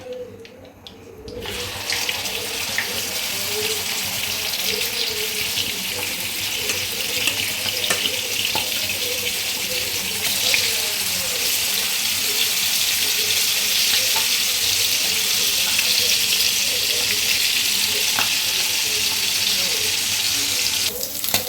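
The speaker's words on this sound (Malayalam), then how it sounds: "നമുക്ക് ചട്ടി വെച്ച് മീൻ വറക്കാനിടാം" Steady, dense sizzling and crackling of sardines frying in hot oil in a pan, continuous and fairly close, with no voices.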